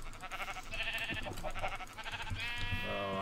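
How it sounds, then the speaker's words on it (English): Sheep in the Minecraft video game bleat several times over a modded-game background, the wavering bleats fairly clear and close, repeating irregularly across the span. "Oh, and sheep."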